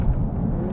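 Deep, loud engine rumble from an Audi TT's 2-litre engine with quattro drive, a brief continuous burst heard close up from inside the car with no talk.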